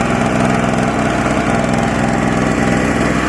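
A Harbor Freight 900-watt portable generator engine runs close and loud in a steady, unbroken drone with a rough, buzzing pulse, and no one talks.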